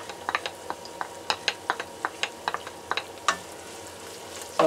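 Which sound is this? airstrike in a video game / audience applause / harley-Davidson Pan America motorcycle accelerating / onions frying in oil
onions frying in oil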